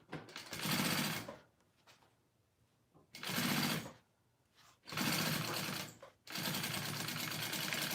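A sewing machine stitches a wallet flap in repeated loud, close bursts of rapid whirring and clatter, separated by quiet pauses, with no talking.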